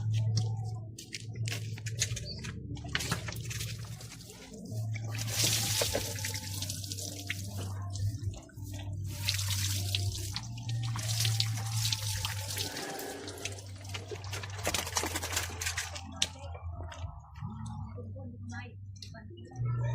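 Running water from a tap rinses medicated antifungal shampoo off a dog being bathed for a skin problem, a steady splashing flow with drips, with a person talking over it.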